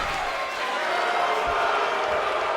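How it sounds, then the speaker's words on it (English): A wrestling crowd at a live indoor event boos steadily, a dense wash of voices echoing through the arena with no clear speech standing out. "The boos of the crowd are echoing right now."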